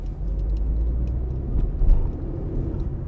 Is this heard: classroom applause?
no